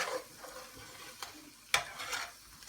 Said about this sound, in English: give it a little stir every now and then